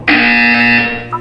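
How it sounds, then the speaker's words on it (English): Portal 2 video game buzzer: one loud, harsh electronic tone lasting about a second, steady and close before cutting off, followed by a short fainter electronic blip. "When you hear the buzzer, look down at the floor."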